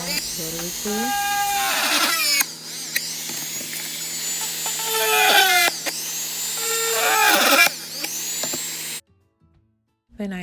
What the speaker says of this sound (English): Then I just drilled out a hole with my Garland rotary tool.